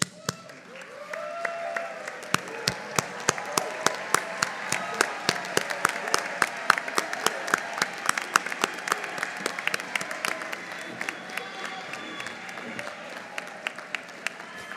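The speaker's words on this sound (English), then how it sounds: "I'm going to ask you to stand up, applaud, yell, and congratulate your support system." University commencement audience on its feet applauding and cheering, with dense clapping that swells in and holds steadily at moderate loudness, scattered shouts mixed in.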